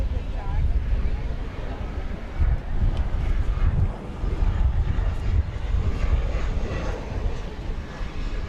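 A jet airliner departs Dallas/Fort Worth Airport at night and banks left on its way to Charles de Gaulle, its engines a steady, broad roar with gusts of wind buffeting the microphone.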